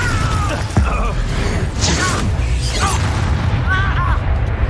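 The Confringo spell goes off in the Hogwarts Legacy game with a booming blast and crackling bursts over a low rumbling background, mixed with brief creaks and game voice sounds.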